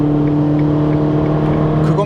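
Inside a Ferrari Portofino, the engine gives a steady, smooth humming drone under acceleration, with a voice speaking over it.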